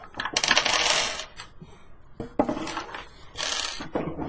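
Dice clattering and rattling across a tabletop during a Dungeons & Dragons session, several bright, rapid bursts of hard clicks close up, no voices.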